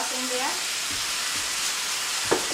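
Chicken chow mein noodles sizzle steadily in a hot pan after sauce is added, a continuous broadband frying hiss with a few stirring clatters and a brief louder scrape near the end.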